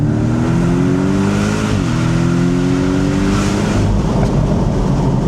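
Porsche 718 Boxster GTS driven with the top down, its engine and exhaust droning steadily and loudly as the revs climb, dip at a gear change, then build again under constant road and wind rush.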